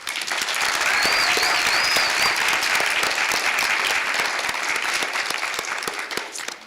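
Sustained round of applause from an audience at a Pennsbury school board meeting honoring Lift Award winners, dense steady clapping holding strong for several seconds before tapering slightly near the end.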